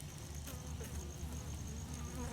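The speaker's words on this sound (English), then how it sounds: "We have a good bee population." Honeybees hum at an open hive during an inspection, a soft, steady, even drone that carries on throughout without voices.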